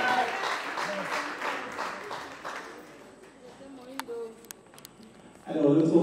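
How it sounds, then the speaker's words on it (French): Audience applause at a Congolese family celebration honouring women, clapping that fades out over the first few seconds, followed by a quiet gap with sharp clicks and then a burst of louder sound at the end. "Encore des applaudissements pour les femmes congolaises"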